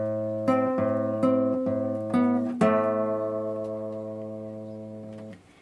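An acoustic guitar plays the opening part of the intro, with a run of picked strummed notes ringing together, close and clear, then a long sustained chord fading out with no voice.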